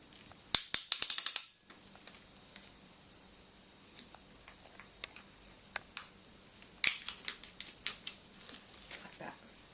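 Plastic strapping is fed through the cutter and ratchet of a strapping tensioner, giving a quick burst of rapid ratcheting clicks, then scattered small plastic clicks and rattles, near and fairly clear.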